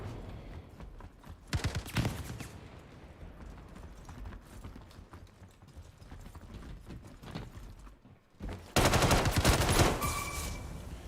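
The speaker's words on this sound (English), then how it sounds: "See, a real man uses a machine gun." Machine gun fire in the Star Citizen Star Marine game mode: short bursts of rapid shots, then a loud sustained burst toward the end, with clattering movement sounds in between.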